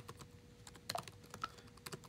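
Typing on a computer keyboard in Windows, with scattered quiet key clicks and a few sharper taps in an irregular rhythm, close and soft, with no talking.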